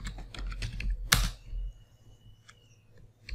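Close, quick keystrokes on a computer keyboard typing Linux commands, a short flurry of clicks, a sharp louder hit, then a pause and a few more taps.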